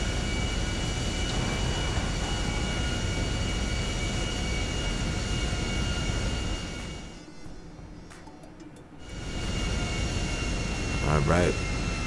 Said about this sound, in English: you will see yourself inside of the airplane taking off from the runway